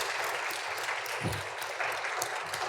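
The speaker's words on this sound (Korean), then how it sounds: "우리 감사의 박수, 격려의 박수 한번 드리겠습니다" A church congregation applauds a string ensemble after a Mozart medley at a Sunday service, a soft, steady spread of clapping heard from some distance, with a low thump partway through.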